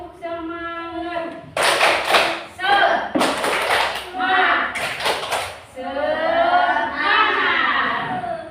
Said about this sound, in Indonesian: Pada tepuk semangat ya.